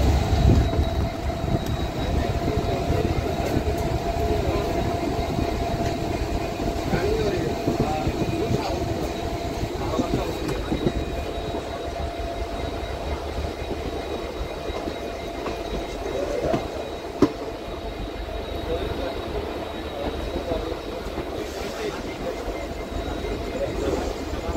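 An Agartala–Karimganj DEMU local train runs steadily through Tripura, with a continuous loud rumble and rattle of the carriages heard from inside throughout, and faint voices under the noise.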